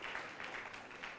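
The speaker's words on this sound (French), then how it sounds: "Merci d'applaudir pour Leila" A continuous wash of audience applause for a female candidate at an a cappella singing competition, steady and moderately loud for its whole brief span, with no voices standing out.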